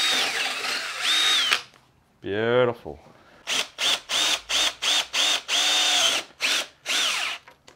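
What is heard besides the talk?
power drill drilling a hole in a KTM 690 part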